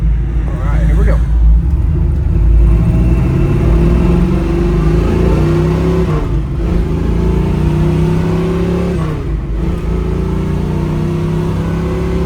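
A 1971 Chevrolet Nova SS with a 350 V8 revs and accelerates through several gear shifts, a loud steady rumble rising in pitch, recorded from inside the car.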